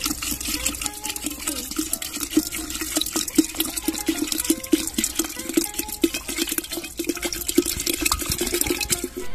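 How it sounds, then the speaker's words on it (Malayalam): Boiled and cooled water is poured into a container of Palayan Kodan bananas for homemade banana wine, a steady close splashing trickle with small drips that runs without pause and without talk. "നമ്മള് തിളപ്പിച്ച് അറ്റിയെടുത്ത വെള്ളം അതിലേക്ക് ഒഴിച്ചു കൊടുക്കാം"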